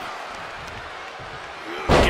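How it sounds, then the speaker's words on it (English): A wrestler is slammed down onto the mat in a wrestling video game, a single loud impact near the end that cuts through steady arena crowd noise and commentary. "Get slammed down."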